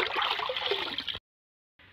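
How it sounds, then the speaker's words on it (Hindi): Water being filled into a container for pigeons: a close, gurgling rush of pouring water that stops abruptly, followed by silence and then a faint trickle resuming. "और इसमें से अपने कबूतरों के लिए पानी भर लेते हैं।"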